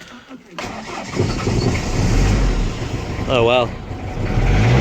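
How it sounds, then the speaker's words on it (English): A Mk1 Ford Ranger diesel engine cranks and fires up, then settles into a loud rumbling run with a brief rev, close by, with someone speaking over it. "Started up nicely. Obviously his diesel's like a little rev when you first start them up."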